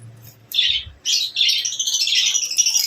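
A small bird chirps and tweets close by, bright repeated calls after a brief low thump, continuing busily to the end.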